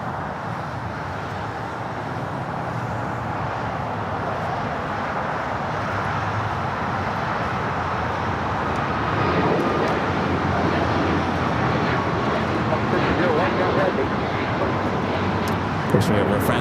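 A Lufthansa Boeing 747 taxiing at Los Angeles International Airport produces a continuous, fairly loud jet engine rumble and whine that holds steady and swells slightly partway through, with no voices.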